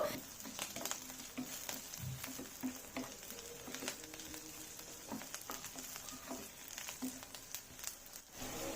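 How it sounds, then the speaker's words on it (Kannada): Soft, continuous sizzling and light crackling of spices frying in oil, fairly quiet, with scattered small pops and stirring sounds. "ನೋಡಿ, ಹೀಗೆ ಚೆನ್ನಾಗಿ ಫ್ರೈ ಆಗಿದೆ."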